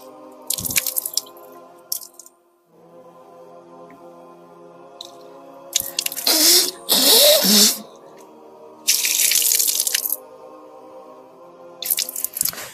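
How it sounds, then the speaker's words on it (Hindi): Tap water splashes and runs in bursts during wudu washing, with intermittent pouring and dripping near the basin between quieter moments. "फिर उसके बाद 3 बार अपनी नाक में पानी डालेंगे सीधे हाथ से"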